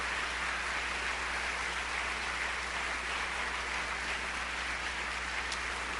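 Steady crowd applause at a church service, a dense wash of clapping hands that holds at an even level throughout, somewhat distant, with no speech.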